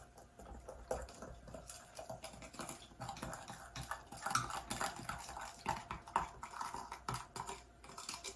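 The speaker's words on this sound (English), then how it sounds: "I'm going to go ahead and stir this in a bit" A utensil stirs a myrrh resin herbal tincture in a small glass container, giving light, quick clicking and scraping taps in an irregular rhythm, close and fairly faint, with no talking.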